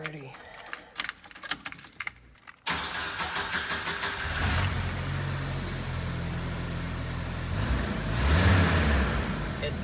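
A car engine is started after a spark plug replacement: a few soft clicks and taps, then the engine catches and idles loudly and steadily nearby, revving up briefly near the end.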